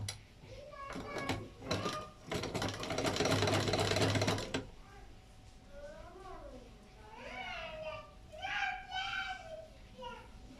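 A sewing machine stitches folded fabric in short loud bursts of rapid mechanical rattle, the longest lasting a couple of seconds, followed by a voice and other voices speaking nearby.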